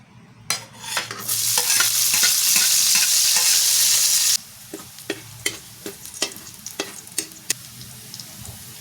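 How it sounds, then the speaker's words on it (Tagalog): Garlic sautéing for ham macaroni with spaghetti sauce: a loud, dense sizzle bursts up as it hits the hot pan, then drops abruptly to quieter frying under repeated scraping and stirring clacks, close by with no talking. "Ang susunod na gagawin natin ay pagkikisa tayo ng mga bawang."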